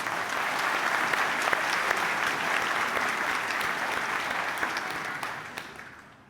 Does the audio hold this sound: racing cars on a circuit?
no